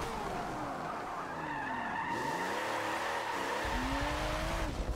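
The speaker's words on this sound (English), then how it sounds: "This thing slides so nice." A race car drifting in Forza Motorsport 7, with a continuous tire squeal and skid warbling and bending in pitch over a loud engine drone.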